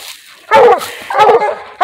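A coonhound gives two close, loud yelping barks with whiny, whimpering tones, separated by a short pause, while trying to climb a tree during a coon hunt.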